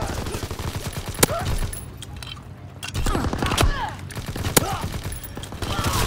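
Dense Call of Duty: WW2 gunfire during an Operation Griffin multiplayer match, a steady stream of overlapping shots with a few sharper close cracks standing out from the continuous battle noise.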